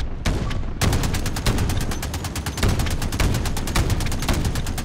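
Heavy machine gun in Modern Warfare fires long rapid bursts, dense rhythmic loud cracks continuing with barely a pause, close and dominant.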